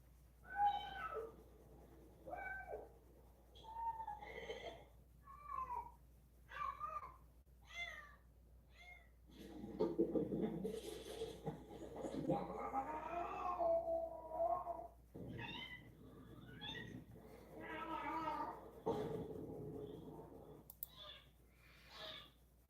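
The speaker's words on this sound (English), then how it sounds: "It's called the two-faced meow." A cat meows repeatedly in varied tones, some short and chirpy, others long and drawn out, fairly faint and close with quiet gaps between.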